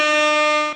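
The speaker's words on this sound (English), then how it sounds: "I'm going to give you the DJ air horn" A short DJ air horn sound effect, a single loud, bright, buzzy blast under a second long that cuts off abruptly, with no talking.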